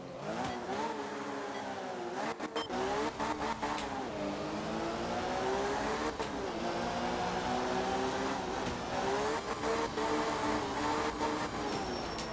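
Rally car engine in the video game Art of Rally, revving and shifting through gears with rising and falling pitch, loud and continuous throughout with no talk.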